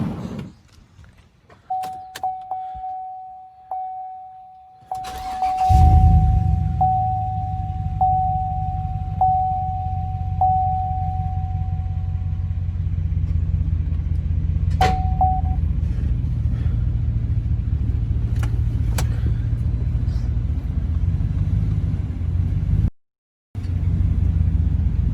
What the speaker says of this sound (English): What I'm gonna do now is just drive off.